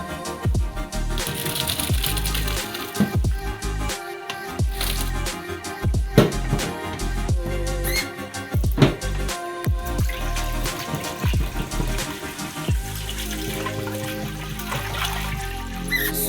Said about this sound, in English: So now the macaroni is soft. I will filter it.